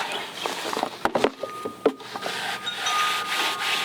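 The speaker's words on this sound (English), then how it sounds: "take your hand, rub your hand across it" A hand rubs across a mass of fine plant roots in a garden, giving a soft, dry scratchy rustle with a few sharper brushing strokes, close and fairly clear.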